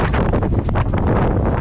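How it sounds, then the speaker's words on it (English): Strong headwind buffets the microphone of a runner near Streaky Bay, South Australia, a loud, continuous roaring rumble with no pauses. "It's been ages since I've run in a block headwind."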